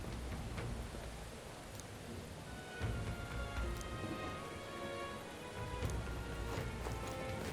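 Steady rain falling on surfaces in the video game Metaphor: ReFantazio, a dense continuous patter with scattered droplet ticks, fairly loud and close throughout, with no voices.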